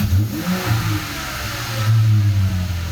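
A V6 Dodge Challenger engine revs as the gas pedal is pressed, a loud, steady mid-pitched drone that swells and rises in a couple of waves with no talk over it.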